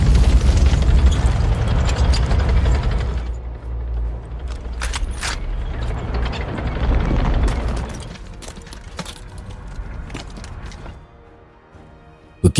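A big explosion opens an attack near a bridge and tanks in a war film. A loud, deep boom rolls on for several seconds, then fades into a thinner rumble with scattered crackles and a final sharp hit.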